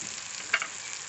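Ground spices and homemade paste frying in hot oil for a mushroom gravy, a steady close sizzle with one brief louder stir-scrape midway, no voices.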